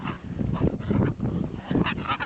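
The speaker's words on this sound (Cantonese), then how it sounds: "Sandy叫下就會驚㗎啦" A dog barks and yelps in quick, excited bursts at close range, with a few whimpering, honk-like cries mixed in.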